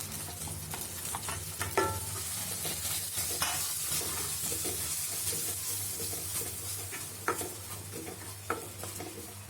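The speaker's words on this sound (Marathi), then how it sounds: "ही सगळी पेस्ट टाकून द्यायची।" A spice paste for makka patodi rassa fries in a pan, giving a steady close sizzle while a spoon stirs it, with occasional sharp scrapes and clinks against the pan.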